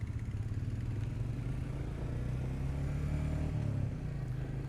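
A 2021 Royal Enfield Meteor 350 Fireball motorcycle engine runs close by with a low, steady, pulsing thrum. The revs rise slightly and slowly before easing off near the end, and no one speaks.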